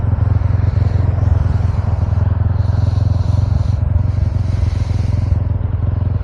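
Three motorcycles on a Hyderabad to Nalgonda road tour give a steady, loud engine drone that runs through the whole stretch, with faint clatter and no clear speech.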